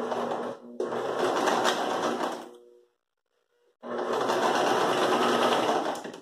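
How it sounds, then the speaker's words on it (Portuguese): A sewing machine stitches pieces of a rug made from old denim in two loud, steady whirring runs, separated by a pause of about one second of silence. "solta da máquina e vamos costurar esse pedaço que a gente deixou aqui"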